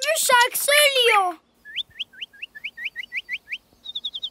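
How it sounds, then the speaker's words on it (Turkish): A nightingale in an animated cartoon sings a quick run of about a dozen bright, rising chirps, followed by a faster trill of shorter notes. A voice talks just before the birdsong starts. "Baba bak, bülbül şarkı söylüyor."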